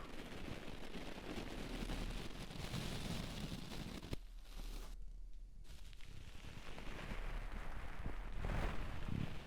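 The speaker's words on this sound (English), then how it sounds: "The sound of each individual brush hair hitting your eardrum" Brush bristles sweep against the microphone in dense, crackly rustling bursts, loud and close, with a short near-silent gap partway through.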